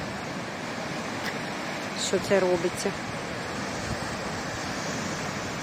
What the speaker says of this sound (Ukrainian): Таке сьогодні бурхливе море.